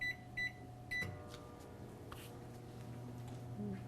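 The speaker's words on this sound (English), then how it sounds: "just put it in the microwave for 3 minutes" A kitchen microwave oven hums steadily at low level after a few short electronic beeps from its keypad, and the fan and turntable drone on evenly throughout.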